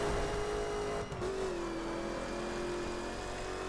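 A Corvette Stingray's engine in the racing video game The Crew holds a steady, sustained drone with a faint pitch shift partway through, loud and alone with no talk.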